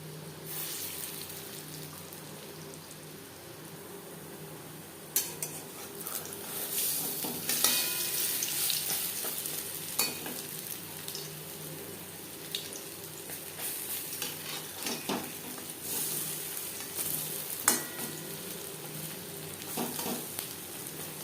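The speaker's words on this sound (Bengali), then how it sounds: "ক্রিস্পি করে ভেজে নিয়েছি।" Masoor dal fritters (bora) crisping in hot oil give a steady, fairly loud sizzle, with a few sharp spatula scrapes and clinks breaking through now and then.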